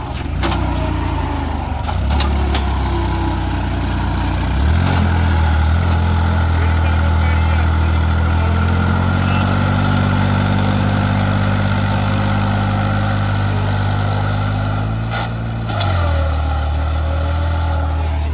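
A New Holland 3630 4x4 Super Plus tractor engine runs loud and close as a continuous low, throbbing drone, its pitch shifting partway through as the load or revs change.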